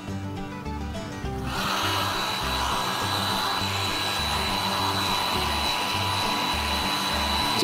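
Heat gun or hair dryer blasting hot air onto boots waxed with Snow Seal, switching on after a brief lead-in and then roaring as a loud, steady, close whoosh with a faint rhythmic thump beneath it.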